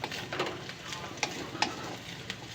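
Water poured into frying spices for an egg curry, a close, steady sizzle with faint scraping of stirring and a few small ticks and pops.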